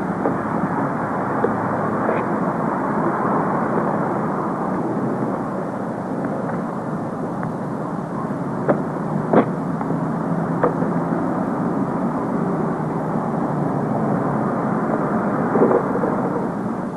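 A small airplane's engine from a 1970s film drones steadily at a distance, a constant broadband rumble with a few faint knocks and ticks over it and no talking.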